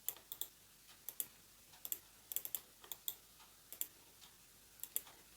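Typing on a computer keyboard while entering text in the Canva editor, with quiet, crisp key clicks in irregular bursts and clusters, close and faint, with no voices.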